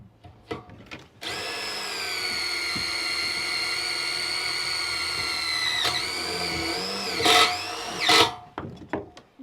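A power drill drives heavy-duty screws into steel, whining steadily for several seconds at high pitch, then revving and stopping in short bursts, with a few knocks before and after.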